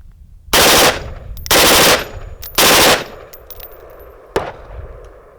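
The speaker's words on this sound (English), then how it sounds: "Now we'll switch it to full auto, press down the plunger, bring it all the way to the rear. On the back of the receiver is an A for auto. We're now in auto mode. I'll fire a couple controlled bursts." A Ruger AC556 select-fire Mini-14 rifle fires full-auto in three short controlled bursts, loud and close, followed by a sharp metallic clank.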